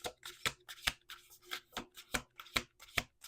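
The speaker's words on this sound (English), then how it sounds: "One more shuffle." A tarot card deck being riffle-shuffled up close, with about eight sharp, crisp bursts of card flutter in a steady rhythm and a faint low hum between them.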